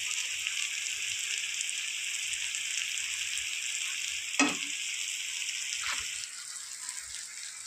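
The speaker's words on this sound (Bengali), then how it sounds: "এবার দিয়ে দেবো আদা রসুন বাটা।" Ginger garlic paste frying in oil in a pan after onion and tomato, a steady bright sizzle throughout with a couple of short stirring scrapes and a brief clatter midway.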